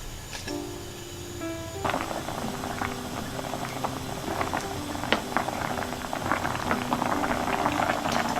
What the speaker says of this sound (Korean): 여기에 떡을 먼저 넣어서 끓여주겠어요.